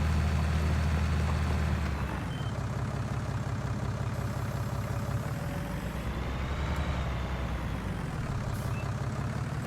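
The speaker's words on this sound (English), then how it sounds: "this plow is a little bit heavy for this tractor, I think, but it works." A tractor hauling an overly heavy plow through a field in Farming Simulator 19, its engine a steady, loud, low diesel drone with a dip in load after two seconds, running on without pause.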